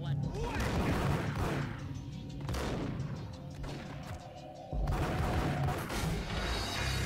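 Gunfire in the PC game Max Payne, set in a New York subway: repeated loud shots and booming bursts in clusters, with a steady game hum beneath and a brief tonal sound near the end.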